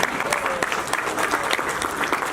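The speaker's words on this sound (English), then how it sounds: "Come on guys, we have to clap." Audience at a Balavihar annual day event at a Hindu temple in Atlanta applauding steadily, a dense, even wash of clapping throughout with no break.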